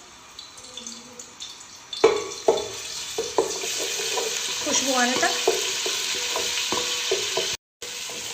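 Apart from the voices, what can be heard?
sautéing garlic and ginger in a pan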